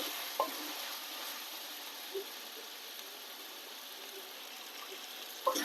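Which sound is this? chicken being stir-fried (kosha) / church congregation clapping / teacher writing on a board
chicken being stir-fried (kosha)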